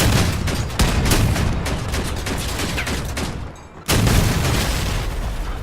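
Three cannons mounted on a single vehicle in the video game Crossout fire in heavy, booming salvos that fill the clip, with a short dip before another loud volley near the end.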